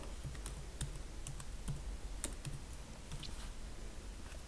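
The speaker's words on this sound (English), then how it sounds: "And I'm going to type my username." Quick, light clicking of a computer keyboard as a username is typed, the keystrokes irregular, close, and fairly quiet against a faint background hum.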